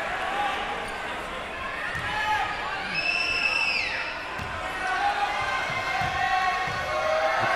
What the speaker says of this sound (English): The crowd trying to put him off.